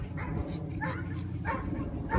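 Small dogs at Anclote Dog Park: several short, yappy barks come at intervals over a murmur of background noise and nearby activity.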